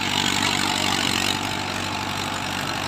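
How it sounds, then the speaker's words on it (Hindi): An Arjun 605Di tractor strains under load pulling a 20-disc Field King harrow, its engine a steady, loud, continuous drone with no voices over it. "जैसे आप देख रहे हो ट्रैक्टर भाई पूरा जोर लग रहा है, 10-10 की एरो है ये फील्ड किंग कंपनी की"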